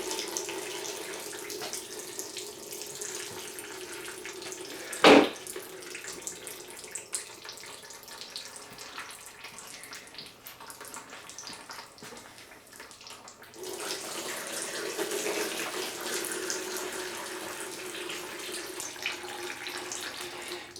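Coolant draining from a Ford 4.6 Triton V8 in a Ford Expedition during an engine teardown, a steady pouring trickle with one sharp clatter early, the flow growing louder and fuller toward the end.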